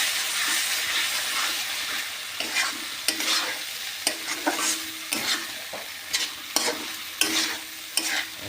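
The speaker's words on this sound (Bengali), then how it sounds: "এবার দিয়ে দিব 2টা টমেটো কুচি, দিয়ে ভালো করে একসাথে মিশিয়ে নিব।" Chopped tomatoes stirred into a frying chicken masala, a steady sizzle and hiss under regular scraping and knocking strokes of a spoon against the pan, close and fairly loud.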